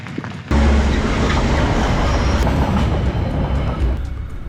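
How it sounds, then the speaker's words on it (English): A train rushes past near a rural cycling trail in Ohakune, its loud rumbling roar starting abruptly and holding steady with faint clatter for several seconds. "There goes the train."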